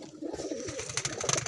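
Pigeons in a loft give soft, overlapping coos and rustles, steady and close by, with no voices.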